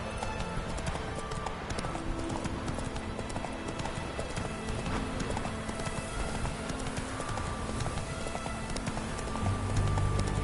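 Roach, a horse in The Witcher 3, gallops with rapid rhythmic clip-clop hoofbeats throughout, joined by a low droning game score that swells near the end, with no speech.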